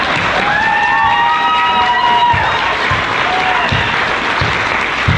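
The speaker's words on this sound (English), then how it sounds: "would like some applause ahead of time" Audience applause at a patriotic community program, steady and loud for about five seconds, with a few whistle-like tones rising over the clapping near the start.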